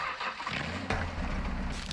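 A car engine in the video game DMZ starting up with a low rumble, then settling into a steady idle drone.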